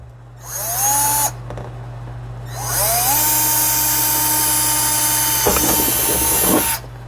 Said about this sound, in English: And then I'm going to drill the first hole in the top.